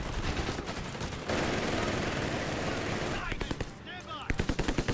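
MG42 machine gun fire in Company of Heroes 3, dense sustained bursts filling most of the clip, then a short lull and a series of sharp rhythmic shots near the end, with a voice speaking over it.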